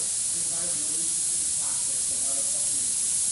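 An airbrush hisses in a steady spray while practice circles are painted, a continuous airy rush beneath someone talking.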